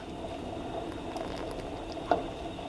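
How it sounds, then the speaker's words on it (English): Cranberry sauce bubbles at a low boil in a pot while being stirred, a soft, continuous burbling with scattered small pops and one sharper clink near the end, close and fairly quiet. "stirring and it's still boiling"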